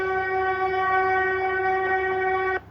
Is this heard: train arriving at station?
yes